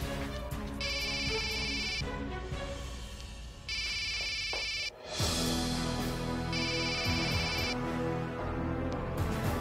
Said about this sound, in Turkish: Telefonum çalıyor bir dakika.